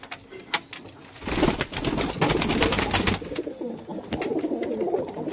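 Pigeons in a home breeding setup coo close by in overlapping, throaty runs that swell and keep going, with faint background noise and no talking.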